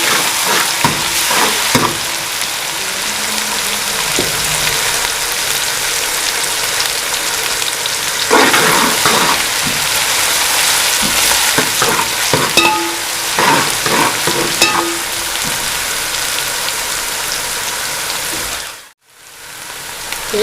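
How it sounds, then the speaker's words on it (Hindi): Garlic ginger paste with onion frying in oil for beef paya, a steady loud sizzle with stirring scrapes throughout, close up and without talk, briefly dropping out near the end. "इसको हल्का सा फ्राई करना है।"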